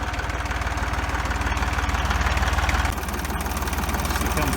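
Steady, close Fordson tractor engine running at a constant idle-like pace while mowing a paddock, with a heavy low rumble and dense mechanical chatter that stays loud and even throughout.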